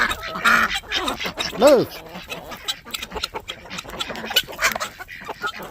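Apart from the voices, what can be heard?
ducks quacking in the chicken coop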